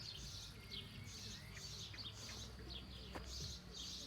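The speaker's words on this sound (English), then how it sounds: "The songs of the birds." Birds chirp and sing outdoors in the French countryside near vine-covered walls and a river, a scatter of faint, distant high calls over a soft, steady ambient rumble.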